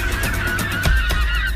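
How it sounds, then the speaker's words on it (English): Several birds honk on an island, a string of loud, close honks sounding one after another with no talk over them. "Look at these birds."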